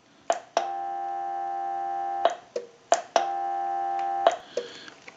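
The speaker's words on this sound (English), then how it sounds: "release the hook switch so we know we have dial tone" Off-hook tones on a Western Electric rotary Trimline telephone under repair: a steady multi-tone signal plays in two long stretches of about two seconds each, cut by sharp clicks of the hook switch, near and clear with no talking.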